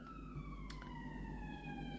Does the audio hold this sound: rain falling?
no